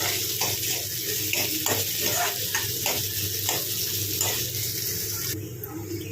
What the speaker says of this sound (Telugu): కట్ చేసిన ఒక ఉల్లిపాయ ముక్కలు వేసుకోండి.